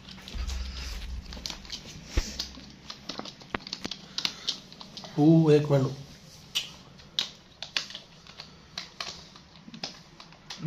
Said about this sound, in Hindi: टाइपिंग मास्टर बैठा है भाई ए जवान दी टाइपिंग चेक करो